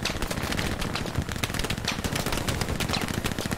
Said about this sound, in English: I heard a shotgun very close.